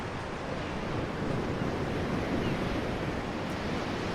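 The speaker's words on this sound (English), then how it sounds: "shallow churning waves placed here, and another over here." Shallow churning waves swirl and rush in a constant noisy wash of surf, full and even with slight swells in loudness and no voices.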